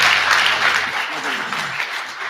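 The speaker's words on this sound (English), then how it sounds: "Give him a round of applause." A conference audience breaks into a burst of applause, giving broad, continuous clapping at close range that fades a little toward the end.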